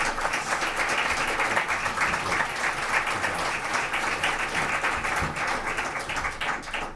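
A meeting audience applauds after a speaker finishes presenting, with dense, sustained clapping that holds at an even level for the whole stretch and tapers only slightly at the end.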